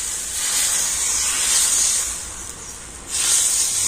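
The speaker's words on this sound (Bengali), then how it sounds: "তো আবার আমি 1 হাতা ব্যাটার দিয়ে দিচ্ছি।" Dosa batter ladled onto a hot oiled pan gives a loud, steady, close hiss that fades briefly and then surges again.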